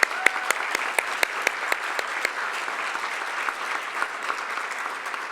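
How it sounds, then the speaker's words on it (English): Applause fills the room at an awards ceremony, a steady wash of clapping with a few sharp, close individual claps standing out at the start before it evens out. "A round of applause for them."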